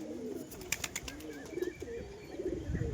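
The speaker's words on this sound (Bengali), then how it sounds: "মাদি কবুতর," A female pigeon in a loft coos in low, soft repeated phrases, with a few brighter chirps and faint rustling nearby throughout.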